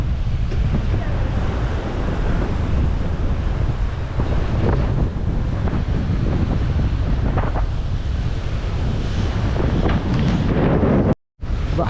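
Strong night wind buffets the microphone at the water's edge of a state park during crabbing, with a continuous roar of gusts and surf washing below and no voices heard.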